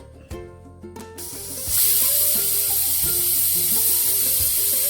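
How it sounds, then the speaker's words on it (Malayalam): A pressure cooker of green peas and vegetables for curry lets out a loud, steady hissing steam whistle that starts abruptly partway through and holds to the end, after a stretch of soft music. "ഇതാ കുക്കറിൽ നമ്മുടെ ഗ്രീൻ പീസും വെജിറ്റബിൾസും ഒക്കെ വെന്ത് വരികയാണ്. ആദ്യത്തെ വിസിൽ വന്നു."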